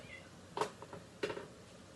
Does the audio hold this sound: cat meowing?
yes